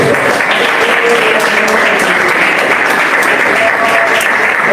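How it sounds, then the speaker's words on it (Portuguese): A church congregation claps together in sustained, dense applause that fills the room, loud and steady throughout with no talk over it. "glorifique ao Senhor com palmas"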